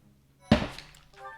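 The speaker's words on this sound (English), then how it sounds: "So I apologize for that cup bang." A cup bangs once against a hard surface: a single sharp, close thunk in an otherwise quiet moment, followed by a brief fading rattle.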